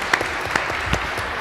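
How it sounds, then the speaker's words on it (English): A seated audience at a cross-party panel debate gives a short round of applause, with scattered claps standing out over a steady wash of clapping. "Oh, give us a clap."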